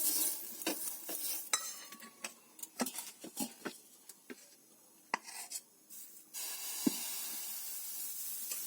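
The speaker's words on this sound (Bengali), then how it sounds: "ওতে করে তেলটা বুলিয়ে দিচ্ছি আমি।" Oil being brushed across a hot griddle with a pumpkin stem, giving faint intermittent sizzles and scraping swishes in short irregular bursts, with a steadier hiss near the end.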